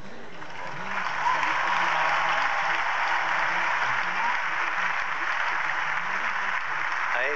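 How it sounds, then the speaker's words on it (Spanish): A large outdoor crowd at a papal Angelus gathering claps steadily for the volunteers, a broad sustained wash of applause that swells after a second and holds at a constant level, with faint voices beneath. "A ellos, este aplauso del corazón por su gran servicio"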